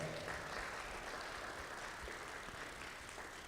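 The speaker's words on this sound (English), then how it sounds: "Please, a round of applause for her." Audience at an African immigrant professional and entrepreneurship summit giving a round of applause for the moderator, a dense, even roar of many hands clapping that stays steady throughout, somewhat distant.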